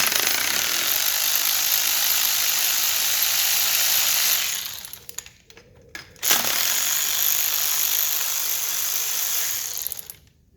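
A power ratchet undoes the top bolts of an EGR valve on an Alfa Romeo in a long, loud, continuous rattling run, briefly pausing, then running again close up.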